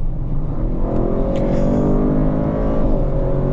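An Audi RS7 Performance with 621 horsepower, driven in RS drive mode, pulls hard with a loud, deep engine note rising steadily in pitch as it accelerates, heard close from inside the car.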